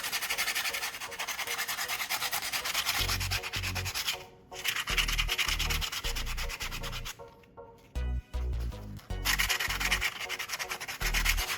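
Roughening an old shoe sole to strip off excess glue, heard as loud repeated scraping and sanding strokes in bursts with brief pauses between passes, close up and with no speech.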